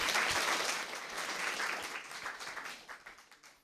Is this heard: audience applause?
yes